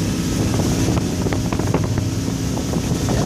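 A 2004 Cobalt 26 motorboat roars along at about 35 mph, its engine droning low beneath rushing wind buffeting the microphone and water slapping against the hull.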